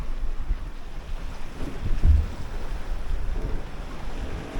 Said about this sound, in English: It's blowing about 20 or somewhere 15 to 20, gusting a little bit higher.